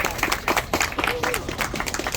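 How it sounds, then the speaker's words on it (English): Applause and clapping from a crowd fill the moment, dense and steady, with voices mixed in underneath. "Yes, applause for him."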